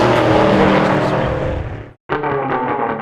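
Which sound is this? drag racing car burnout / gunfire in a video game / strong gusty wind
drag racing car burnout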